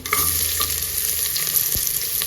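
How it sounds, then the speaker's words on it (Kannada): Mustard seeds, cumin, crushed garlic and onion fry in oil for a South Indian sambar, giving a steady, close, loud sizzle with faint crackles and one soft knock near the end. "ಇದೆಲ್ಲ ಒಂಚೂರು ಫ್ರೈ ಆಗಲಿ."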